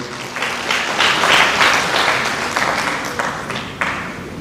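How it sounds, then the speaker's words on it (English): A crowd applauds at a graduation ceremony, with thick, continuous clapping rising and falling in waves for several seconds at a fairly loud, close level. "Clap for her, please"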